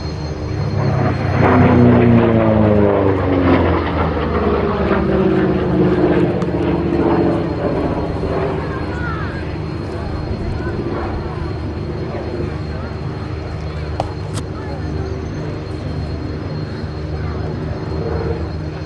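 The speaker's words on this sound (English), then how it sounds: "P-47D Thunderbolt." Republic P-47D Thunderbolt 'Nellie B' flying a display at Abingdon, its piston-propeller engine roaring loud and close before settling into a steady drone as it passes, with crowd chatter underneath.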